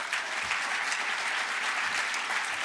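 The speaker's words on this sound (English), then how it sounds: "can we just get a round of applause for all of the young people in the room today?" A roomful of people at a social media summit applaud young attendees, producing dense, even clapping that runs steadily throughout at moderate distance.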